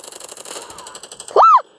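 Counter-Strike gameplay with a rapid, steady burst of automatic gunfire, close and evenly paced, ending in a sharp, loud rising electronic tone from the game.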